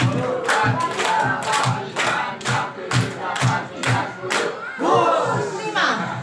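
A group of teachers and staff at a school dissemination session performs a rhythmic clapping chant together, with loud, evenly spaced bursts of claps and shouted voices ending in a final cheer.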